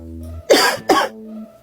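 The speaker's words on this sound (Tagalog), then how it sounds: "Umubo ka." Two sharp, close coughs in quick succession, with a low steady hum in the background.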